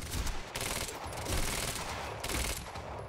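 Gunfire in Quantum Break rattles in rapid automatic bursts, a sustained volley of shots with short pauses between the strings, heard steadily through the game mix.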